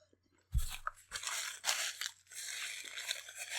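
A close, crisp crunch as someone bites into a Hammond's Key Lime Pie chocolate bar with caramel, followed by a few seconds of wet chewing.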